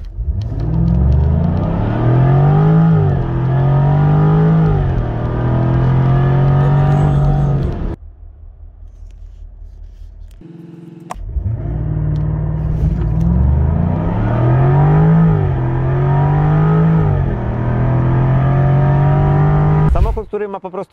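A Jaguar F-Type R 75 with a 5.0 V8 of 575 hp revs hard through two loud, close acceleration runs, each rising in pitch across gear changes, split by a brief quieter pause.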